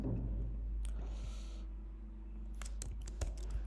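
Keys clatter on a computer keyboard as a search term for a HubSpot extension is typed into Google, a steady run of close, crisp taps that grows denser and sharper toward the end.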